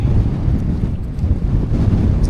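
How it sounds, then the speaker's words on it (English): Strong wind buffeting the microphone at an exposed wild camp spot: a loud, continuous low roar with gusty surges and no other sounds. "This is definitely breezier up here than down in that little spot"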